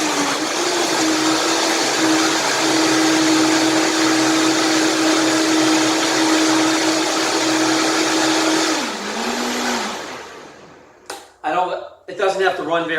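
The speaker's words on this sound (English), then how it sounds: "Turn the Vitamix on, dial it up, high speed." A Vitamix blender runs at high speed blending a banana and ice smoothie, a loud steady roaring whir that slows and winds down near the end, followed by a person starting to talk.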